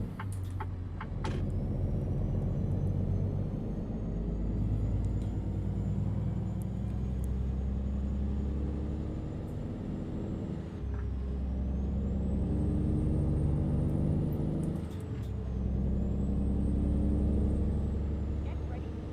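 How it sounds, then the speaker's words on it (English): A Cascadia truck's engine brake in a driving simulation game rumbles in long, loud low-pitched bursts, easing off and building again, with a faint high whine above. "Just love the engine brake on this truck. That engine brake sound. Love that rumble."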